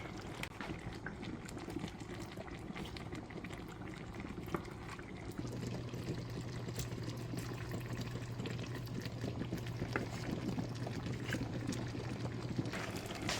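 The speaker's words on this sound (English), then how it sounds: "So now let me go in with my fish." Snapper fish goes into a pot of simmering coconut milk, giving a steady soft bubbling and liquid sizzle that runs throughout at low level with no voices.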